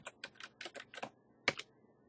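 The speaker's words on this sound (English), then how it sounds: "Google and just type in Rainmeter." Keys on a computer keyboard clatter in a quick irregular run of taps, with a pause before a final pair of louder strokes, close and clear with no talking.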